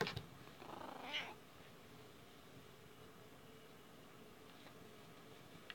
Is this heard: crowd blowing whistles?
no